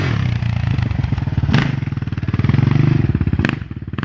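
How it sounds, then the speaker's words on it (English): A Yamaha Raptor 660R ATV with a worn, poorly running engine revs up close and loud in a rapid, pulsing throb, rising and falling, with two sharp clattering knocks breaking through. "even though the engine is pretty bad, it has a lot of power for what the engine is right now"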